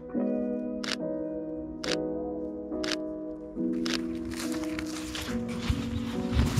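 Several camera shutter clicks fire at slow shutter speed, spaced about a second apart as sharp bursts, over a steady tonal background outdoors in a misty sunrise landscape.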